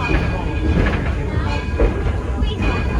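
Edison steam locomotive standing at the platform in Greenfield Village, giving a steady close hiss and rumble under a loud announcer's voice.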